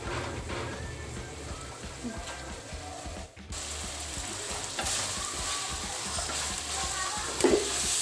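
Small chicken pieces cook in a pan for creamy Alfredo pasta, giving a steady frying sizzle with ratcheting scrapes and clicks of stirring, a brief drop midway and a louder knock near the end.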